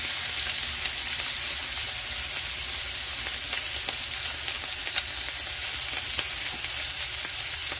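Scallops fry in a covered pan over medium heat, giving a steady, dense sizzle with fine crackling pops that holds even and unbroken throughout, close and fairly loud, with no voices.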